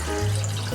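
Water runs from a tap in a short, steady stream, with a low continuous rush and no voices.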